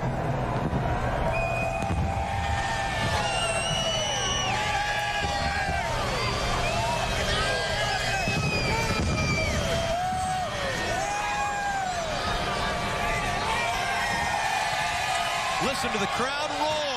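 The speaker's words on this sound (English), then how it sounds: "Listen to the crowd roar." A large NASCAR crowd at Bristol roaring and cheering continuously, dense and loud, with scattered whoops and shouts rising over the sustained din.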